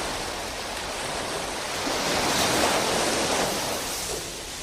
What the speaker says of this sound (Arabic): هبت عاصفة شديدة جعلت الموج يرفع السفينة ويهوي بها حتى أوشكت على الغرق